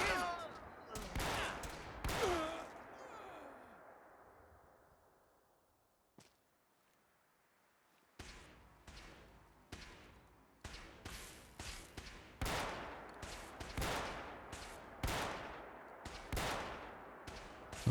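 Gunfire in Fallout 4 cracks out in loud, sharp shots that echo briefly, falls into a quiet lull, then returns as a long run of rapid, evenly spaced shots.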